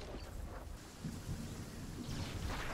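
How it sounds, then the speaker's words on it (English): Thunder rolls in over steady rain and wind as the storm arrives in the video game Fortnite, a dense, continuous low rumble that swells slightly toward the end with no talking. "Red alert, red alert, storm is here."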